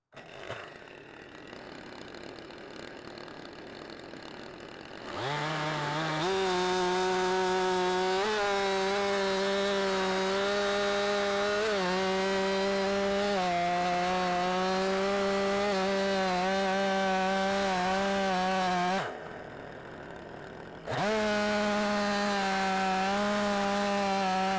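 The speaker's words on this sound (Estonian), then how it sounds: "praegu on oluline see üks pakk ära saagida" A Stihl chainsaw cuts through a log block, loud and close, running at a steady high whine for about fourteen seconds, then dropping briefly to a lower idle before revving back up into the cut.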